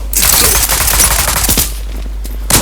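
Rapid bursts of Glock 18 pistol fire in the video game Zula crackle in quick succession, loud and close, pausing briefly before another shot near the end.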